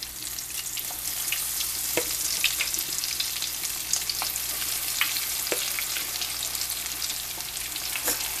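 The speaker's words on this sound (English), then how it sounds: "You're gonna use just enough oil to fry them" Steady sizzling and crackling of salmon croquettes frying in shallow oil, continuous and close, with a few sharp pops and no voices.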